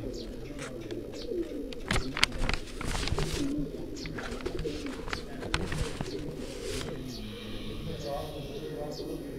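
A Tiger-breed pigeon coos repeatedly among other birds outdoors, the soft throaty calls mixed with chirps while people talk nearby.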